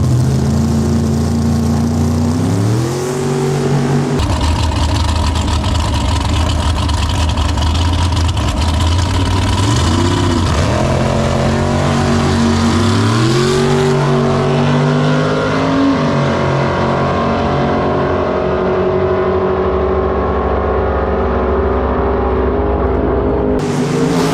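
Drag race cars at a racetrack rev loudly at the start line, then roar away with rising engine pitch in a close, continuous blast that fades as they pull off.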